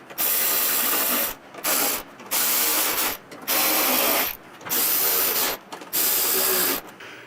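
Ratchet tightening bolts on a carbon fiber motorcycle windshield being refitted to a Softail, loud rapid clicking in about six long strokes with brief pauses between, very close.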